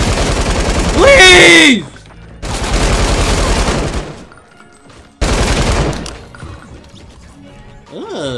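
Automatic gunfire in Fortnite comes in loud, dense bursts, each lasting about a second or two, with gaps between them. An excited player's voice shouts over and between the shots.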